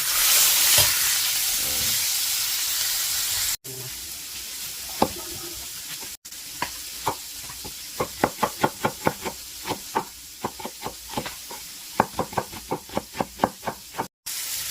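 Beef sears in a hot pan on both sides: a loud steady sizzle at first, then a run of sharp rhythmic clicks and knocks over a continuing hiss.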